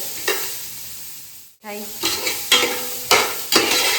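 Onions frying in a pan outdoors, a soft steady sizzle broken by a brief gap, then repeated scraping stirs of a spatula against the pan, close up.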